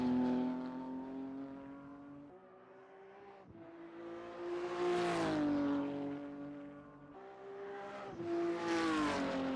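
BMW M4 race car on the Interlagos circuit in a racing sim, its engine droning steadily and rising in pitch through the gears, dropping on shifts and braking, then climbing again under hard acceleration, close and continuous with no voices.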